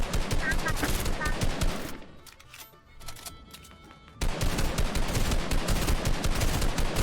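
Rapid gunfire bursts in the Fortnite video game, dense and loud at the start, dropping to a quieter stretch of scattered shots midway, then resuming as heavy continuous fire.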